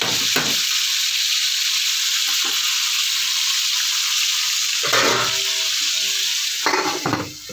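Cauliflower sizzling in a covered kadai with salt and turmeric, a constant close hiss throughout, broken by a few louder clattering bursts near the start and toward the end.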